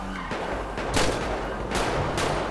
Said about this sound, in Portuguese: Ela deu tiro, eu tô dando tiro, mano.